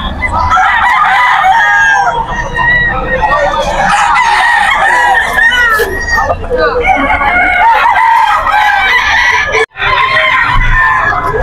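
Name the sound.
Gilmore gamefowl rooster crowing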